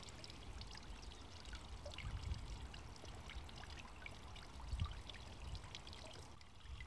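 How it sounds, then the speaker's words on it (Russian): Warm water from a bathtub pours steadily onto roses in a garden bed after fertilizing, a continuous close splashing stream with brief louder surges. "И снова наполнила ванну тепленькой водой и снова полила все розы после удобрения."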